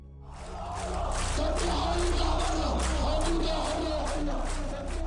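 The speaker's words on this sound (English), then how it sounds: "A crowd gathers to protest the arrest of Kurdish political activists" Crowd of protesters gathered against the arrest of Kurdish political activists in Syria, a dense, continuous roar of many voices shouting and chanting together, loud and sustained throughout.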